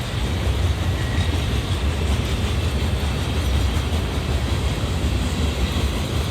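A CSX mixed freight train passes through Folkston, Georgia, producing a steady, loud, broadband rumble and roar of rolling cars that holds constant throughout, with no voices.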